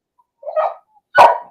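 A dog gives two sharp barks, close and loud, the second stronger than the first, with a brief silence between them.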